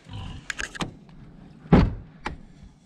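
A door is pulled shut on a small garden farm in the dark: a few light clicks and rattles, then one solid, close thud midway, followed by a fainter knock.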